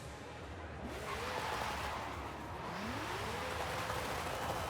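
Ferrari Enzo engine in the racing game Forza 5, revving up twice in rising sweeps over a steady engine drone, moderately loud with no talk.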